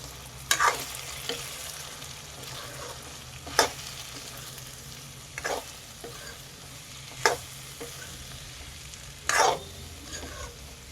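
A spoon scrapes and stirs drumstick fry with chili powder and coriander powder in a pan, giving soft, intermittent scraping strokes roughly every two seconds over a faint, steady background hiss.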